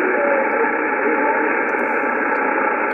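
A weak ham radio station on a Yaesu FTdx5000MP transceiver, with DSP noise reduction switched off, comes through as a constant, loud band-limited hiss in which the faint signal is barely distinguishable.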